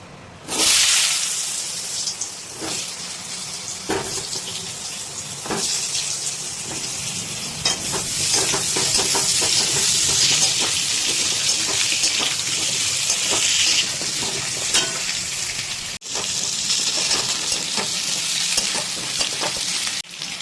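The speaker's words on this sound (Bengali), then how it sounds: "আলুটা দিয়ে আমরা বেশিক্ষণ নয় 5 মিনিট মতন ভাজলাম" Potato pieces fry in leftover fish oil, cooked for an Aar fish curry. A steady, loud sizzle with crackling continues for twenty seconds, with occasional stirring scrapes and no talking.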